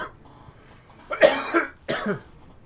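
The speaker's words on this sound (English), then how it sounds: "It felt more like just major coughing, like coughing to where I couldn't breathe." A person coughs in two harsh bursts, the first a quick double hack followed after a short pause by a single hoarse cough, close and alone.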